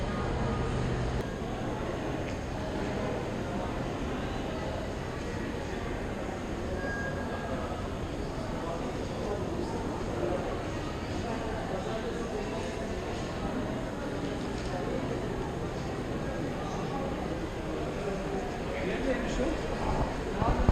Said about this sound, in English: I'm just walking around the train station.